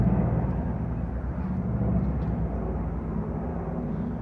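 An aircraft circles overhead during a wildfire, a steady low engine drone that holds constant throughout with no voices.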